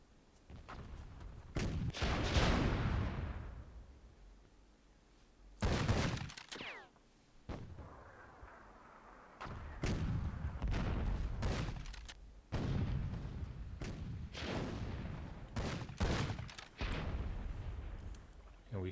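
Super cannon artillery in a WWII-themed tournament match of the video game Myth II Soulblighter: heavy booming blasts go off at irregular intervals, each trailing into a rumble, while a commentator talks between them.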